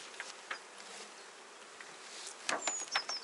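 Honeybees buzzing around a hive at an apiary: a soft, steady hum with scattered nearby fly-bys and short buzzing bursts, no talking.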